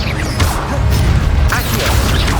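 Incendio fire spell cast in Hogwarts Legacy, a loud, dense burst of crackling, whooshing flame with sharp impact-like crunches, alone and continuous across the short moment.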